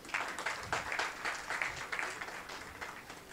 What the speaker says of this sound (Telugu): అరిగేల అన్నకి ఒకసారి గట్టిగా చప్పట్లు కొట్టండి